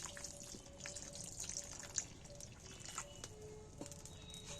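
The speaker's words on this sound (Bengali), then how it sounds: "আরও একটু জল দিচ্ছি" Water dribbles and drips faintly into a pot of jackfruit curry, a soft, quiet trickle with a few small splashes and no talking.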